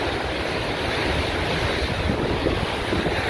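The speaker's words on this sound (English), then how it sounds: "The waves are just smashing up against me." Ocean waves crash and spray steadily against a driftwood-strewn shore, a loud, continuous roar of surf with heavy wind buffeting the microphone close by.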